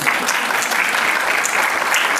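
An audience at a corporate product presentation claps for award-winning companies, a brief, dense and fairly loud burst of steady applause.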